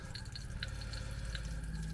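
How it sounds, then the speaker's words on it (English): Water flows through the taps of a campervan, a steady rushing hiss with faint dripping and splashing ticks on top, close and continuous with no talking. "we've got hot and cold water flowing through now"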